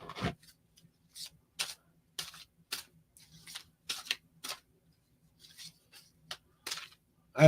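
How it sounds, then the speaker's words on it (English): Tarot cards being shuffled by hand, a run of short, crisp riffling and sliding bursts separated by quiet gaps, close and fairly soft. "I'm doing my last and final cleansing shuffle."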